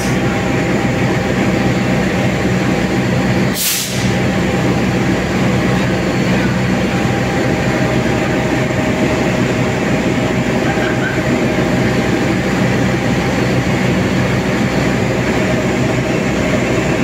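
A CC 206 diesel locomotive hauling the Argo Semeru passenger train at Solo Balapan station, heard as a loud continuous rumble and engine drone with one brief sharp burst partway through, no talk.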